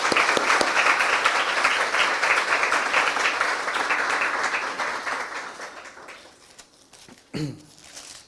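A church congregation applauds loudly in dense, steady clapping that gradually fades out, followed by a brief voice at the end.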